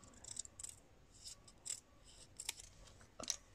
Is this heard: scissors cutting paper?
yes